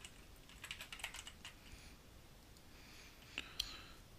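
Quiet typing on a computer keyboard while logging in, faint scattered clusters of key clicks with short pauses between them.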